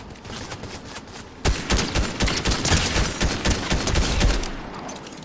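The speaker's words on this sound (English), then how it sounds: "He's shooting at us now." An enemy opens fire in Fortnite: a loud, close volley of rapid gunshots bursts in suddenly after a quieter lead-in and keeps rattling in quick repeated cracks for several seconds before easing off.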